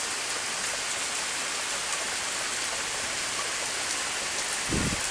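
Heavy rain pounds steadily on the ground and a porch, a dense, unbroken hiss of drops with a faint low thump near the end.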